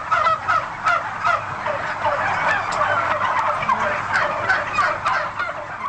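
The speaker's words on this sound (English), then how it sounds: "sparing 2 turkeys from becoming someone's dinner" Turkeys gobble in a dense, continuous chorus at the annual White House Thanksgiving turkey pardon, with rapid overlapping calls that stay close and loud throughout, and no speech.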